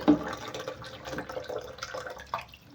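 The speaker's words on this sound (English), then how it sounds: "I don't have to hear the water entering the tank, that sound." Water runs into a toilet tank being fixed for overflowing, a soft, uneven trickling and splashing at close range, fairly quiet throughout.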